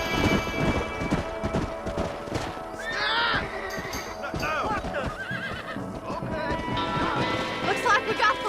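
Horses thunder along in Red Dead Redemption, hooves pounding in a dense clatter while several whinnies and neighs rise over the galloping herd.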